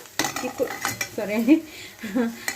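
Vegetable curry stirred in a pan with a spoon, giving close, repeated metallic scrapes and clanks over a light sizzle; a voice is heard briefly underneath.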